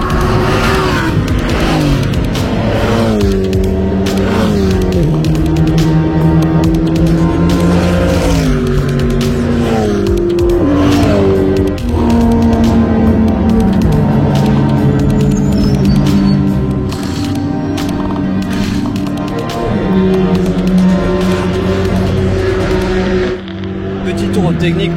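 GT race cars at an Ultimate Cup Series endurance practice session scream past on track, loud engine notes rising and falling through repeated upshifts and passes, with a voice talking over the continuous roar.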